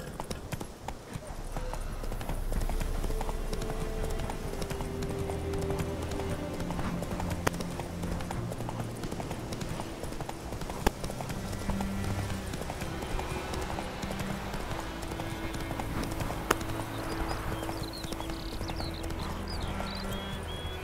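Horse hooves clip-clopping at a steady riding pace in The Witcher 3 video game, a continuous rhythmic trot under a dense bed of game music and ambience, with an occasional whinny and faint voices in the mix.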